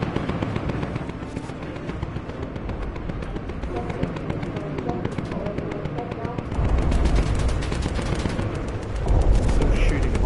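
Rapid machine-gun fire from enemy fighters attacking a bomber in the video game Bomber Crew, a dense continuous rattle that grows heavier and louder toward the end.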